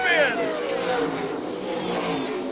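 NASCAR K&N Pro Series West race cars spinning out at the front of the pack at Colorado National Speedway, engines whining high and falling away in a quick sweep, under excited commentary.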